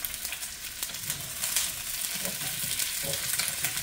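Italian sausage fries in a pan with a steady, crackling sizzle, stirred now and then with soft scraping taps, close and continuous.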